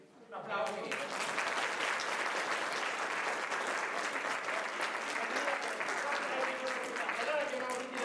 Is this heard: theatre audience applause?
yes